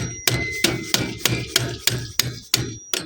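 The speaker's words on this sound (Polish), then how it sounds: "Idę po młotek. Mam młotek. Teraz powinno wejść w tryminga." Eight sharp, evenly spaced hammer blows ring out close by as a part is knocked into place on a bike trailer converted from a stroller, each strike leaving a short metallic ring.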